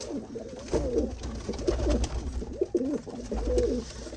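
Pigeons kept by a fancier coo steadily and close by, overlapping rolling calls running throughout without pause.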